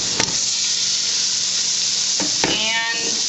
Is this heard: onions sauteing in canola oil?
yes